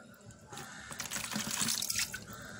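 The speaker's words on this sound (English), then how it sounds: "I'm going to add a little water to it" Water pours into a saucepan in a kitchen with a close, gurgling splash that builds in intensity over a couple of seconds, with no talking.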